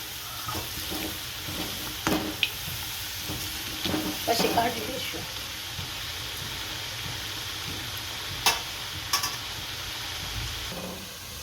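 Potatoes fry in hot oil in a home kitchen, giving a steady close sizzle with scattered stirring clinks and scrapes; a voice speaks briefly over it.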